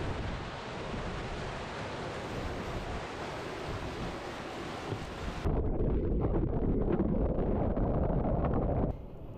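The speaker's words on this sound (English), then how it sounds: "we were powered strictly by the wind and the sails" A sailboat moving under sail alone at about 9 knots, with wind buffeting the microphone and waves rushing along the hull in a steady broadband wash that shifts and grows louder partway through, no voices.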